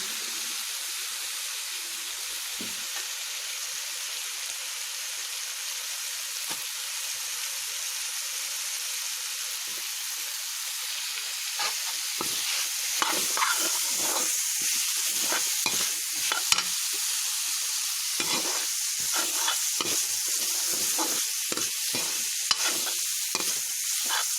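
Amla (Indian gooseberries) sizzle in a pan with dry-roasted spices as a steady broadband frying hiss. Stirring clatter and scraping grows busier after the midpoint, and nobody speaks.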